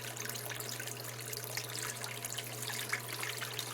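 Steady water running over a sluice mat while prospecting for gold in black beach sand on Lake Huron, Michigan: a continuous close trickling rush over a low hum, with no talk.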